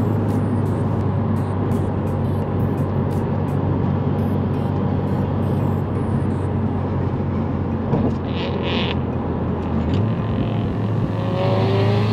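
A car with a 600 WHP Subaru STI ahead is floored at full throttle, its engine roaring loud and steady with continuous road and wind noise for the whole stretch, no talk over it.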